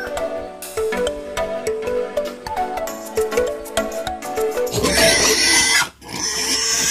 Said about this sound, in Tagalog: yung aking mga alagang baboy